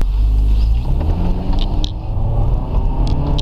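A Nissan Qashqai fitted with a STAG Qnext LPG system, engine running on petrol with a steady low rumble and smooth CVT-driven pull as speed builds, heard from inside the car.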